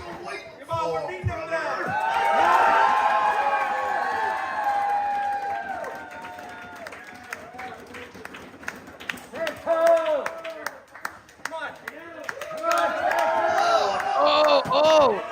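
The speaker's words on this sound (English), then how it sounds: "The crowd just went off." A wrestling audience cheers, whoops and claps in a loud, swelling roar that dips and rises again, with scattered sharp claps and shouts, while people nearby talk over it.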